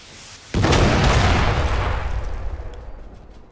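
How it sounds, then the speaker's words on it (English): A heavy rocket explosion in a Napoleon strategy game battle, a sudden loud boom with a deep rumbling tail that slowly fades over several seconds. "Oh, here comes another set of rockets."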